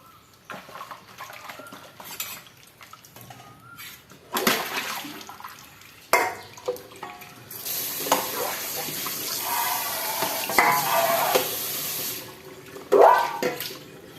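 Tap water runs during dishwashing: a few scattered clatters and splashes come first, then a steady, fairly loud gush of water lasts several seconds before it cuts off.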